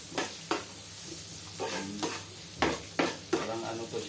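Shrimp and browning onions sauté in a hot pan, the sizzle rising in repeated bursts as a spatula stirs and tosses them, close and moderately loud with no talking.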